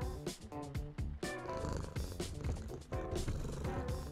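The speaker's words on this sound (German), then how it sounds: "Was ist das denn für ein Katzenschnurren hier" Cat purring in the horror video game The Baby in Yellow, a steady close rumble layered under busy, loud game music with no talking.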